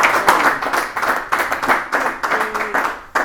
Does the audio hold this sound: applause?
yes